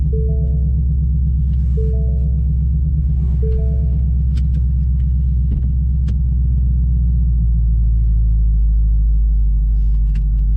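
Ford Mustang S550 with a Coyote V8, modified and tuned, settling into a steady deep idle with low rumbling pulses, close and loud, alone without voices.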